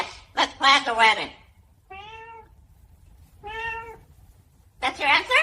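A parrot imitates a cat's meow in two drawn-out, tonal calls spaced apart, with a person talking before and after.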